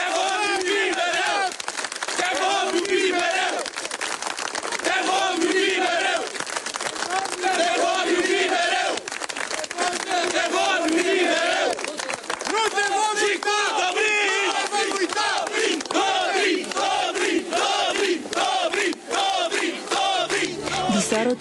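Large outdoor crowd gathered outside the municipal hospital in Pitești, clapping and calling out in dense, continuous waves of noise with rhythmic bursts, loud and sustained.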